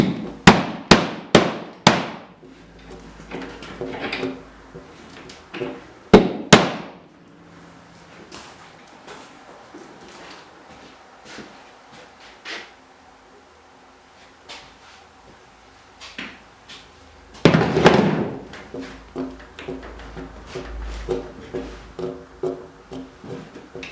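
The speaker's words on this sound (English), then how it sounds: "In the last phase, you'll see hammering on the end of the rib" A hammer strikes the end of a steam-bent wooden rib to seat it into the bottom of a boat: a quick run of sharp, close blows, a few isolated knocks, another tight burst, then lighter taps.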